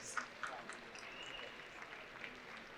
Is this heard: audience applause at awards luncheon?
yes